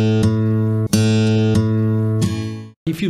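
Acoustic guitar strings plucked right over the sound hole rosette ring out one after another, several clear, loud, sustained tones with sharp attacks, each note decaying into the next, close-miked and alone.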